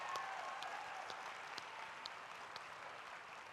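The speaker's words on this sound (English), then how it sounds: "Let's give Rian a big round of applause" Conference audience at a Relay For Life summit session giving a round of applause for Rian, a soft, fairly distant clapping that holds steady for a few seconds with no talking over it.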